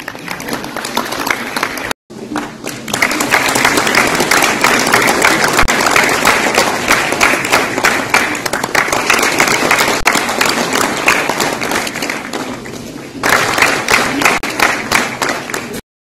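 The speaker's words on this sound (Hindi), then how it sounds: "जोरदार तालियों से इनका स्वागत करें" An indoor audience at a bank-sponsored festival event breaks into loud, sustained applause, dense rapid clapping that cuts off briefly near the start, swells for several seconds and fades, then picks up again before stopping.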